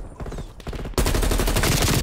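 Call of Duty Black Ops Cold War team deathmatch on the Zoo map, with dense, loud rapid gunfire that swells abruptly into a sustained burst of automatic shots.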